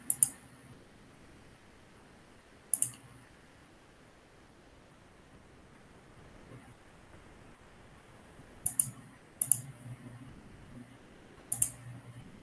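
Sparse mouse clicks while working in web software, faint single and double clicks spaced irregularly over a quiet background hiss.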